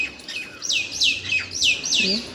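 Parrots calling in a village with large trees, a quick series of about five sharp, squawking chirps repeating in a steady rhythm, fairly close and clear over quiet background.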